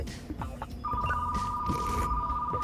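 A phone rings in the video game Retro Rewind with a steady electronic trill that starts partway in and keeps going, over low background game noise and some talk.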